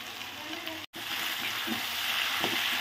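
Onion frying in a pan alongside lightly cooked beans, a steady broadband sizzle throughout with a brief dropout near the start and small stirring clatters, close and moderately loud, no talk.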